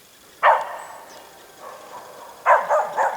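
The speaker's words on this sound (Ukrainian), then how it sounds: "Хутір ще живий, собаки бісяться" Several dogs bark in short, sharp bursts at a rural farmstead: one yelp, a pause with faint yapping, then a quick cluster of barks, fairly distant and outdoors.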